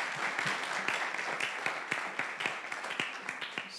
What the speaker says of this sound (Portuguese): por favor, mais uma salva de palmas para o professor